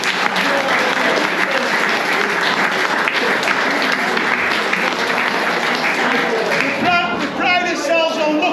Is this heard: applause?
yes